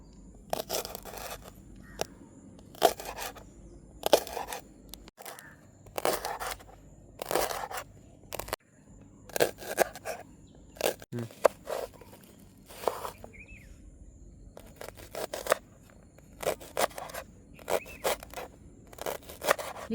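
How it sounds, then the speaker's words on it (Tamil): Leeks being cut for vegetable noodles in a home kitchen: a run of crisp, close chopping and slicing strokes in irregular bursts, with brief pauses between cuts and no talking. "நாங்கள் இப்போ இந்த லீட்ஸை வெட்டி எடுக்க போகிறோம்."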